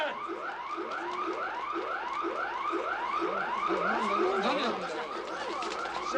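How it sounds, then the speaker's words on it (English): Electronic alarm blaring in repeated rising whoops, a rapid, insistent cycling wail that keeps going throughout, fairly loud and steady with faint background voices. "Somebody must have set off the alarm by accident."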